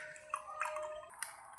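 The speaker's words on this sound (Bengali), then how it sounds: "দেখুন বন্ধুরা, আমি ছেঁকে নিচ্ছি।" Roasted-mango sherbet pours through a strainer, the liquid trickling and dripping in quiet, close splashes for a brief moment.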